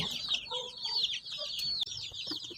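Young Isa Brown chickens on a small farm clucking and peeping close by, a busy run of short chirpy calls overlapping one another with no voices.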